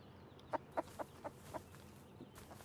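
A chicken in the survival video game Rust clucks in a run of five short, evenly spaced clucks, faint and close, over a quiet background hum with no speech.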